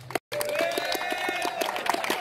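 Clapping and cheering for the dance team Master Beat in a hall, rapid scattered hand claps with shouting voices, moderately distant, after a brief cut of silence at the start.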